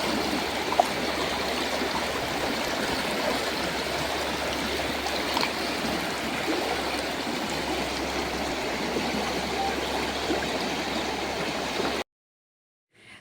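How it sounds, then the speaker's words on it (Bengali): The Chil, a mountain river in the Dooars, flows and murmurs in a steady, close babbling rush that goes on unbroken for about twelve seconds and then cuts off into silence. "কলকল শব্দে আপন মনে বয়ে চলেছে পাহাড়ি চিল নদী"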